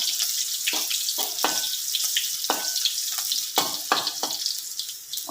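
Onions and chili fry in a pan, giving a bright, continuous sizzle broken by repeated bursts of louder spattering, close and alone with no voices.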